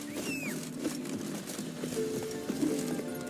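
Hoofbeats of the horse Roach in The Witcher 3 clop along in a quick, uneven patter at moderate distance, over a continuous game ambience with a brief whinny-like tone.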